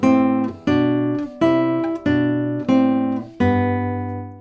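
Guitar plays a steady sequence of tenth intervals, six or seven plucked two-note chords in even rhythm, each ringing and decaying before the next.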